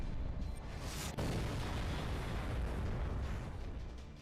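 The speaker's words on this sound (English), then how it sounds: "firing our final weapon, the 7-link heroic spirit cannon." Big booming blast as the heroic spirit cannon fires in the Fate/Grand Order video game, a dense roaring explosion with a sharp crack partway through, then a sustained rumble that fades slowly.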